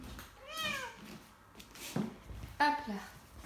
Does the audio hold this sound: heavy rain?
no